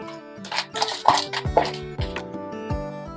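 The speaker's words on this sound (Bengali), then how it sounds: "আমি কিন্তু এটাকে এবার মিক্সির বাটির মধ্যে পুরোটা একসঙ্গে ঢেলে দেবো" Ingredients for a mustard hilsa paste tipped into a mixer grinder jar, with a quick series of metallic clinks, taps and small thuds from the jar and utensils, close and sharp.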